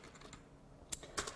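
Keys pressed on a computer keyboard while entering data into accounting software, a few close, crisp clicks in quick succession.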